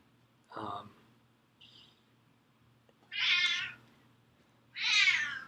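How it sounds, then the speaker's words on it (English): A cat meows three times, a short cry followed by two louder, longer meows, each separated by quiet gaps and heard close up over a faint low hum. "we got some meows going."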